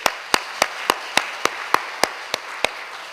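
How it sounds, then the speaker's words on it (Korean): Slow, evenly spaced claps in a church during a Sunday service after a child recites a Bible verse, about eleven sharp, loud hand claps in a steady rhythm with nothing else heard. "우리 박수 한번 해주세요."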